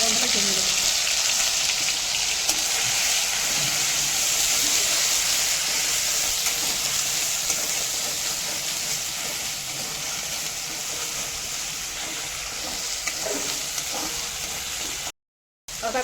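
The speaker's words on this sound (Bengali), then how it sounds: "আদা কাঁচা লঙ্কার যে পেস্ট বানিয়েছি এটা দিয়ে ভালো মতো করে ভেজে নিচ্ছি" Ginger and green chili paste frying in hot oil for a cabbage paratha filling, a steady close sizzle and hiss that runs unbroken for the whole stretch apart from a brief gap near the end.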